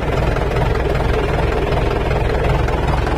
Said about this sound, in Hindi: ये देखो भाई बिल्कुल साइलेंट आवाज है गियर बॉक्स के अंदर से